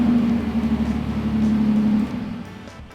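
A 1958 Austin Healey BN4 with an inline six engine idles with a low, steady, raspy exhaust hum and a sustained droning note, easing off and quieting in the last second.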